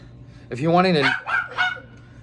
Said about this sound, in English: I'll show you guys the little barking dog